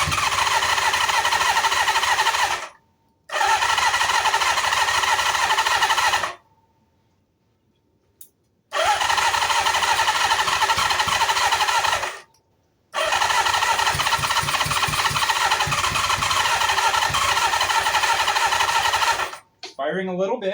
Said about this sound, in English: we got a couple pops out of it, but never did much more than that